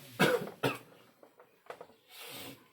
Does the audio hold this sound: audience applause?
no